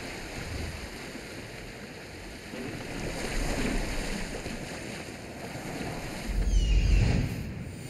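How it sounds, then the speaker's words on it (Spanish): Sailing ship in Assassin's Creed Odyssey pushing through rough ocean waves, with steady wind noise and water wash throughout and a louder surge of crashing water near the end. "Este barco no podrá con esas olas."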